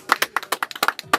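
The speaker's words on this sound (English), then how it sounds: "I think everyone in here should give them a round of applause." A few people in a small studio clap for a couple of seconds, sparse distinct claps close to the microphone.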